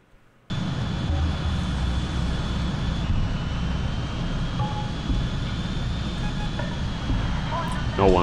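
Jet aircraft engines roar in the video game Ace Combat 2. A sustained, loud, broad rumble starts suddenly after a short quiet moment and continues steadily to the end.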